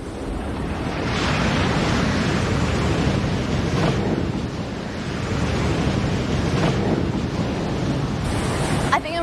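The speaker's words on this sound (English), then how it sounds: "all the power that's generated in the middle of the ocean crashes right on these shores." Big ocean waves crashing on a Hawaii shore, a loud continuous roar of surf with swells rising and falling, wind buffeting the microphone.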